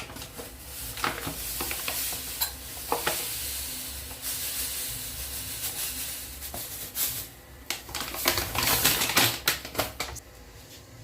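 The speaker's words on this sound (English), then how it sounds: "So we're going to add some water and mix this." Maize flour being stirred into boiling water for ugali, with repeated scraping and clacking stirs over a steady hiss of steam, close and fairly loud in uneven bursts.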